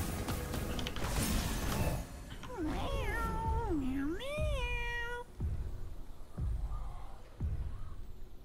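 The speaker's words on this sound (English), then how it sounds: "That's what a cat sounds like?" A cat character in the video game SMITE meows loudly in a long, pitch-sliding wail over steady game background sound, then the call stops and game noise with regular thumps continues alone.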